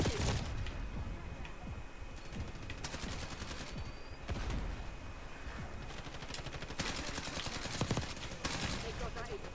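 Rapid bursts of automatic gunfire from a Call of Duty video game battle, recurring in loud clusters over a dense background of in-game combat noise and radio-style voice callouts.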